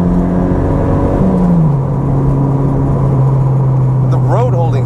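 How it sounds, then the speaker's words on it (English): Tuned Mazda MX-5 NC sports car engine pulling steadily in third gear, a loud, continuous drone whose pitch dips and then holds level from close inside the car, with a brief whine near the end. "Let's rev it up for third gear."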